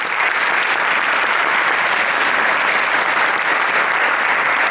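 Loud, sustained applause from an audience at a community service awards ceremony honouring elementary school representatives, dense even clapping filling the whole stretch without a break.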